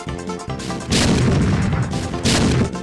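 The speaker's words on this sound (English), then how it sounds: "Why would you shoot me?" Two heavy gunshot blasts in an Amnesia custom story horror game, each a loud broadband boom with a crashing tail, the first just before one second and the second near the end, close and dominant.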